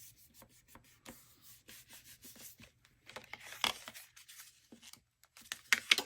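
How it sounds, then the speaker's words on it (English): Handmade faux metallic book covers for an accordion book are burnished by hand: soft, close rubbing strokes come in short bursts, quiet at first, then louder and scratchier toward the end. "I'll burnish the covers."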